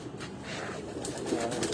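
A pigeon at a loft gives low, soft rolling coos, faint against a steady background hum and with no talk.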